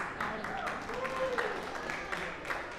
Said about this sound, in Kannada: ಜೋರಾಗಿ ಚಪ್ಪಾಳೆ ಬರಲೇಬೇಕು ಈ ಪರ್ಫಾರ್ಮೆನ್ಸ್.